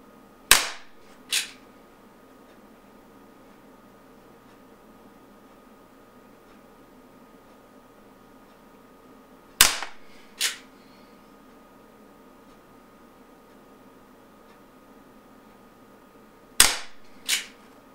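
Colt SAA Peacemaker CO2 pellet revolver fired six times, in three spaced pairs of sharp, close cracks separated by long quiet pauses.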